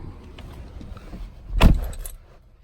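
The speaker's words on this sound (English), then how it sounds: "Put the key right here." A 2019 BMW 530i xDrive key fob jangles on its ring as it is handled inside the car, with one bright, loud rattle near the end and quieter fumbling before it, and no talking.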